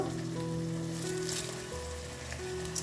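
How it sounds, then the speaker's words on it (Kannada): Chopped capsicum, fresh peas, curry leaves, roasted peanuts and roasted gram fry in oil over high flame, a soft continuous sizzle with a faint background hum. "ಹುರ್ಗಡ್ಲೆ ಇಷ್ಟನ್ನು ಹಾಕ್ಕೊಂಡು ನಾವು ಹೈ ಫ್ಲೇಮಲ್ಲಿ ಒಂದು ಎರಡರಿಂದ ಮೂರು ನಿಮಿಷ ಹುರ್ಕೋಬೇಕು"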